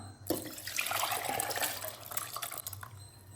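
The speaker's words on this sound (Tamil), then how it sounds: "ஊறினதை ஒரு 2 ட்ரிப் நம்ம கழுவி எடுத்துக்கலாம்" Soaked grains and dried red chillies being rinsed under a running kitchen tap, a steady close splash of water into a vessel with no voices.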